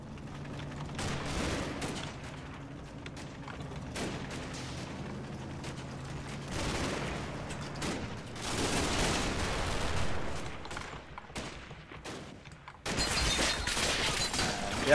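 Mortar and machine gun fire in a Combat Mission World War II battle, a mix of bursts and heavy thumps rolling irregularly at mid-distance, with a louder cluster of shots near the end.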